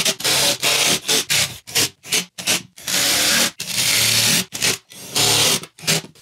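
Screws being driven into the wood of a shed, heard as a rapid series of loud, gritty, rasping bursts with brief pauses between them, close by and with no talking.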